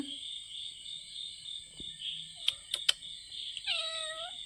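A kitten gives a short, clear meow near the end, close by, with a few soft taps and clicks before it over quiet background hum.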